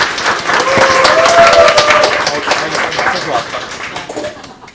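An audience at a Phantom FC marketing lecture applauds as a team leader is introduced, a dense, loud wave of clapping that swells and then gradually tapers off.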